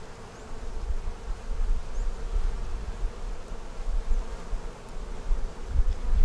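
A big hive of honeybees gives off a dense, continuous buzz up close, a low droning hum that swells and fades slightly but never stops.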